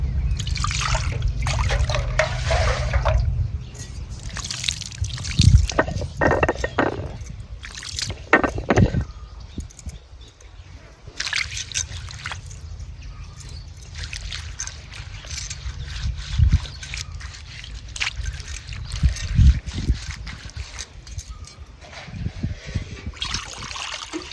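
Ridge gourd rinsed under running water in a home kitchen, a steady close trickle and splash with irregular louder spills as the vegetable is handled, continuing throughout without speech.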